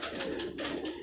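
Breeder pigeons coo softly on a rooftop in Karachi, a continuous low burbling with faint background noise.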